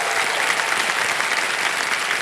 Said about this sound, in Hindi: मैं चाहता हूं कि तालियों के साथ इनका स्वागत किया जाए